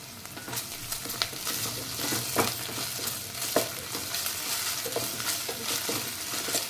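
Onions frying in a pan with ginger-garlic paste being added for an egg curry give a steady close sizzle, broken by a few louder stirring scrapes and spoon clinks, with no talking.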